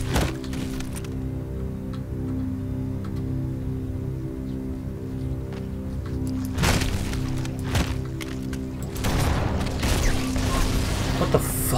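A loud game explosion bursts out in Halo: Combat Evolved Anniversary, a heavy boom and crackle rising over a steady low mechanical hum, followed by a second noisy burst near the end.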